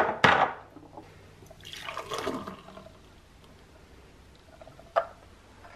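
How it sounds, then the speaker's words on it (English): Frothed milk from a Nespresso Barista milk frother is poured into a mug, giving a short splashing gush at the start and a longer liquid pour in the middle, then quiet with a small clink near the end. "we're going to pour our milk into the mug"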